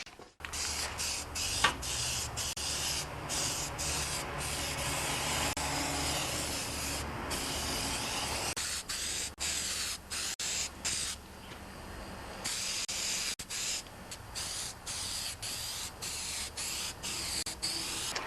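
A John Deere 316 tractor deck being spray primed, close, loud hissing bursts from a spray can in long pulls broken by short pauses.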